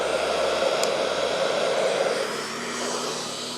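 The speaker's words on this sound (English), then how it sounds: "Let's see if I can use a blow dryer to move it evenly." A hair dryer blows across an alcohol ink painting with a steady, loud whooshing roar close by, its tone dropping slightly partway through.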